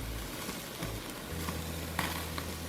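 A tri tip roast sears in a hot pan after basting with garlic, rosemary and thyme butter, giving a steady broadband sizzle with a low hum underneath and a few faint clicks, no talking.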